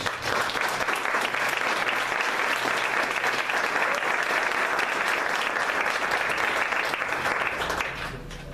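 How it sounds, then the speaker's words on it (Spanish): A church congregation applauds during a Spanish-language sermon, steady loud clapping that carries evenly through and tapers off at the very end. "¿Se merece un aplauso, Jesús?"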